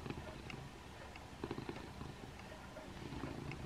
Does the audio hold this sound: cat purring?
yes